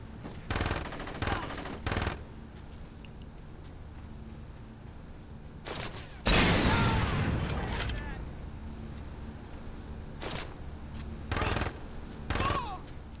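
Gunfire and a rocket launcher in the Saints Row video game: several short bursts of automatic fire, then a louder, longer blast with a roaring tail around the middle, followed by more scattered shots, each separated by quieter gaps.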